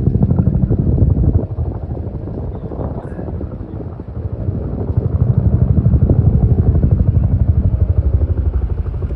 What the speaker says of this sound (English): Here comes a chopper to drop some water.